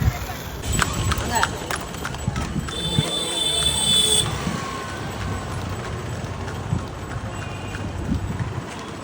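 Horse hooves clip-clop steadily on a hard road amid busy street noise near Palani hill in Tamil Nadu, with people talking throughout and a siren-like tone briefly in the background.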